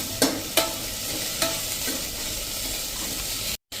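Cauliflower pieces are stirred into hot oil in a pot for Rajbhog khichdi, with a steady close sizzle and a few sharp clinks of a spoon against the pot early on.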